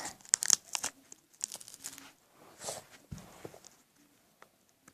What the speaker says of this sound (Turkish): Bugün bir toy box, toy box açıyoruz. Hadi hemen açalım.